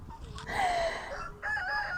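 Free-range roosters crow nearby, two drawn-out cock-a-doodle-doo calls in quick succession with faint background clucking outdoors.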